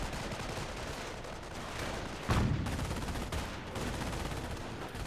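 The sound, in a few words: gunfire on mortar half track in video game Company of Heroes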